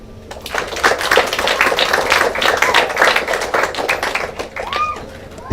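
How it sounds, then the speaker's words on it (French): A church congregation applauds at a thanksgiving service, a steady spell of dense clapping that fades toward the end. "Je vous invite de faire un coup d'applaudissement pour lui."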